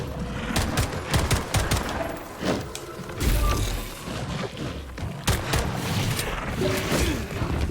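Rapid gunfire with fire cartridges in the video game Atomic Heart, dense bursts and booms filling the scene loudly and continuously, with mechanical clatter between volleys.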